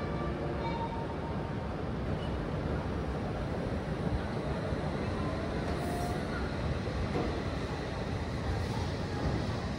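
Shinkansen bullet trains at Morioka Station during uncoupling, heard as a steady low rumble of platform and machinery noise, continuous and moderately faint with no clear distinct clanks.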